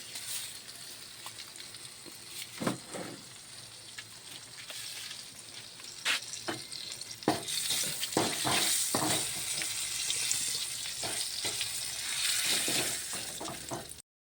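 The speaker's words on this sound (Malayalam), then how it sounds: "നമുക്ക് ലേശം ഉലുവ ഇട്ടെടുക്കാം." Mustard seeds and fenugreek frying in oil for mango pickle, with scattered sharp crackles and pops over a soft sizzle that grow busier and denser halfway through.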